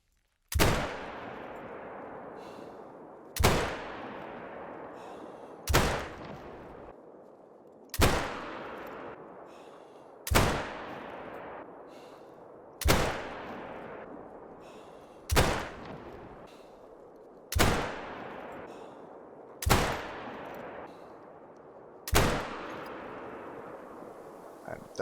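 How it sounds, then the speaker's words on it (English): Ten evenly spaced shots from a Zagan .22-250 rifle in theHunter: Call of the Wild, fired at a 50-meter range. Each sharp crack is followed by a short fading tail, and there is no talk. "And that is 10 shots from 50 meters"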